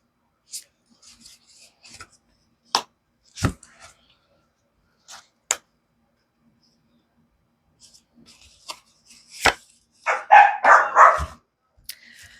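Pet dogs bark in short, sharp bursts spread across a quiet indoor room, some single and some in quick clusters, close and loud, with a stretch of human talking near the end.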